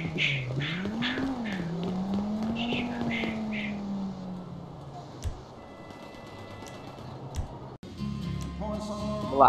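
In-game car racing in GTA V: an engine revs up and down in long sweeping tones, followed by quieter driving and a sharper burst of tire and engine noise at the end, with people talking over it.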